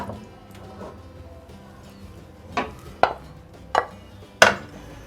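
Marinated chicken tipped into a kadhai with no added oil, heard as four sharp, close clacks and thuds spaced about a second apart over a quiet background.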